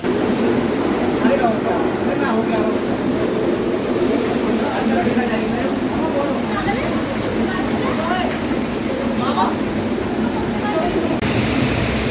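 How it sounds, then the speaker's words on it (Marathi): Steady rushing water of a small stream flows throughout Robber's Cave in Dehradun, a continuous trickling wash in an enclosed space, with faint voices murmuring underneath. "एकदम आतमध्ये पोचल्यानंतर इथे जरा छोटासा झरा आहे"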